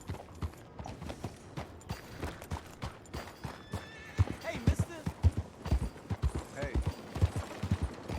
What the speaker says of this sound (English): Look at that horse. Real beauty right there.